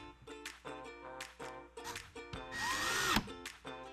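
A power drill drives fasteners to secure a pipe flange to a wooden board, with short whining bursts that start and stop repeatedly and one longer, louder run near the end, close and without talk.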